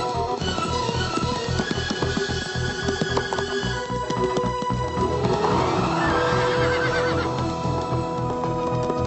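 A horse whinnies loudly amid a busy, cluttered cartoon soundtrack with hooves and rushing motion, the neigh rising and falling near the middle and overlapping other effects.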